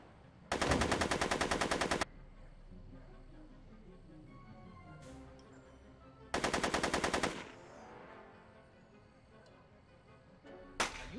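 Rapid machine-gun bursts ring out in the video game Back to the Future, two long loud strings of fire separated by a quieter stretch, with another short burst at the end.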